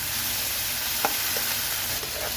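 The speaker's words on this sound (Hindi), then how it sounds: "अब इसको 2 से 3 मिनट हम अच्छे तरीके से हिलाएंगे" Onions and tomatoes frying in a pan for karela pyaz, a steady soft sizzle with a few faint stirring scrapes and taps, close and continuous without talk.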